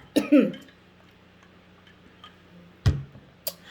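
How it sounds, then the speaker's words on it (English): A throaty cough rings out near the mic, followed by a quieter pause with faint ticking, then a second sharp cough and a small click. "I'm trying to cough."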